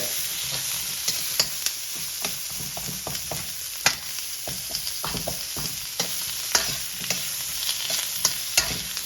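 Onions fry with a steady sizzle in a pan, while a spoon or spatula scrapes and stirs them in frequent short clicks and knocks; no one speaks.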